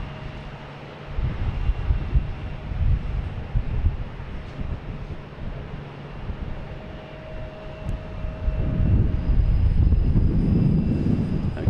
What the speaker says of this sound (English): I get Air Canada taking off.